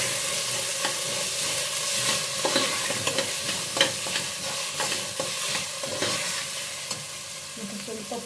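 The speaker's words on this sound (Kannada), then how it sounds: "ಸ್ವಲ್ಪ ಎಣ್ಣೆಲ್ಲೇ ಬಾಡಿಸ್ಕೊಳ್ಳಿ ಇದನ್ನು." Carrot and peas sauté in a little oil for gee rice, with a steady soft sizzle under repeated scraping stirs of a spatula against the pan, close up and uneven in rhythm, without any talking.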